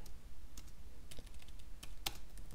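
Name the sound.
typing commands on a computer keyboard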